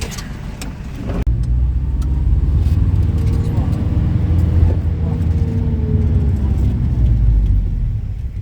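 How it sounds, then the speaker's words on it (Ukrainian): Riding inside a minibus (marshrutka) through Hurghada, Egypt: a steady, loud low engine rumble and road drone run throughout, with a brief knock near the start and voices faintly present. "І знову ми на маршруточці."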